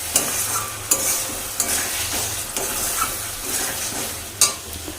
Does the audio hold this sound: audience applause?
no